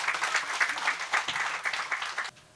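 A group at a development event for the Kabalebo area claps for a president in a brief round of applause. The clapping is fairly quiet and fast and dense, then stops abruptly.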